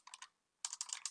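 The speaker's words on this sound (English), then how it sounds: "If I can type." Typing on a computer keyboard, two quick bursts of clicky keystrokes separated by a short pause, close and fairly quiet with no talking.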